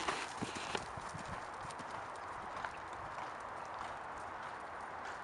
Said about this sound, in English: That's a great canter.